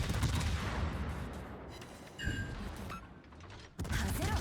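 Ship guns firing shells in the naval game World of Warships, a few muffled booming salvos and impacts scattered over a few seconds, fairly faint, with a low rumble beneath.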